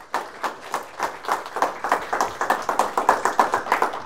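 An audience at a lecture claps in unison, a near, even rhythm of sharp single claps at about four per second, growing slightly firmer and more regular as it goes, no talking over it.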